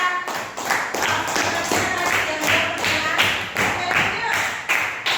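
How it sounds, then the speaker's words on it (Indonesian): Classroom applause at a school lesson, a group of students clapping together in a steady, loud rhythm of claps and thumps throughout, with voices murmuring underneath. "Tepuk tangan dulu untuk kedua."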